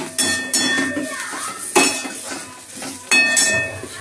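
A spatula scrapes and clinks against a pan as mixed vegetables with fried lentil dumplings, dried chili and chili powder are stir-fried for a Bengali chorchori, giving several sharp metallic knocks over a soft frying hiss.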